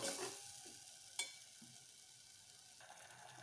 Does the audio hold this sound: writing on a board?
no